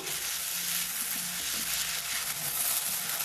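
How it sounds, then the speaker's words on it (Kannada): Chopped onions frying in hot oil in a pan for an okra gojju, giving a loud, dense, continuous sizzle with occasional stirring scrapes, close up and with no talking. "ಚಾಪ್ ಮಾಡ್ಕೊಂಡಿರೋ ಈರುಳ್ಳಿ ಸೇರಿಸ್ಕೊಳ್ತಾ ಇದ್ದೀನಿ."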